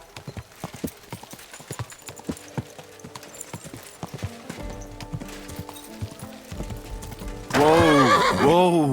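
In the video game Kingdom Come: Deliverance 2, rhythmic clip-clop of horse hooves throughout, then a loud, close horse whinny in the final second.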